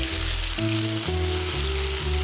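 Onion, ginger and garlic paste frying in a pan, a loud, dense, continuous sizzle with occasional stirring, heard close up with no one speaking.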